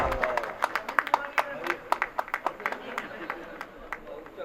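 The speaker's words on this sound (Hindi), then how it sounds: "चाहता हूं कि तालियों से इस्तकबाल कीजिए जनाबे नदीमुल्लाह बासी साहब का" An audience at a Gorakhpur poetry mehfil claps to welcome the poet Nadeemullah Basi, a loose patter of separate hand claps spread across the room and continuing steadily throughout.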